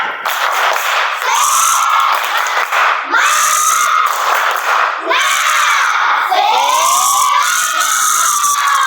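A class of children in a school lesson performs the rhythmic 'tepuk semangat' clapping chant, loud shouted group voices in repeated bursts with clapping mixed in, close and energetic.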